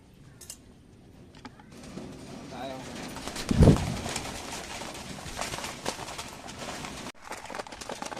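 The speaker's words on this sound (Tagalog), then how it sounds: "Bigay ko sa mga kalapati natin mga kalapati." Pigeons coo and flutter nearby while being fed, amid rustling and handling noises, with a brief louder thump partway through and muffled voices in the background.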